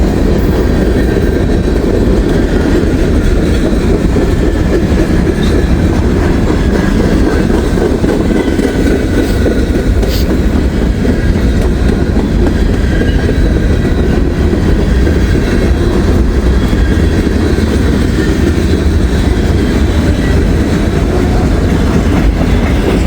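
Loud freight train rolling past up close, a dense continuous roar of wheels with clickety-clack and faint squeal, steady for the whole stretch.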